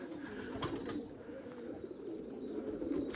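Erzurum white breeding pigeons cooing softly in a loft, a low steady murmur of coos with faint rustling and no talk.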